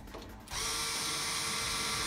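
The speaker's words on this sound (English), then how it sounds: "I'm going to use a cordless drill" After a brief quiet moment, a cordless drill kicks in to drive a screw for a bathroom mirror cabinet, holding a loud, steady whirring whine right up close until the end.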